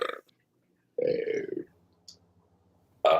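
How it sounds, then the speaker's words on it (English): Loud, close burps come in separate bursts with quiet gaps between them, and small clicks are heard in the pauses. "This is so many burps."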